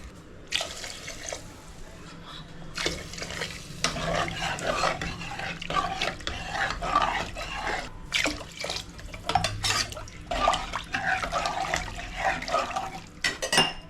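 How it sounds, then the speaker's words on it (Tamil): Water splashes and trickles into a metal pot of river crab soup in uneven bursts, with occasional clinks of utensils, close and fairly loud. "நான் கிட்டத்தட்ட ஒரு மூணு நாலு டம்ளர் தண்ணி ஊற்ற போகிறேன்"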